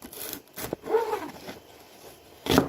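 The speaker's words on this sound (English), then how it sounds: "And then I cut them down the middle." Knife slicing vegetables lengthwise down the middle on a cutting board, giving a few soft scraping, rubbing strokes with two brief sharper cuts, close and fairly quiet.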